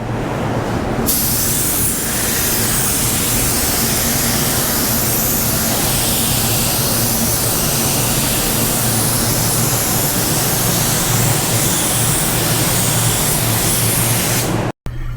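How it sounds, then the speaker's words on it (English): A 3M Performance paint spray gun with a 1.3 tip at 20 psi sprays base coat in a steady, loud, continuous hiss that runs almost the whole time before cutting off abruptly at the end. "the gun is doing a great job at atomizing the paint"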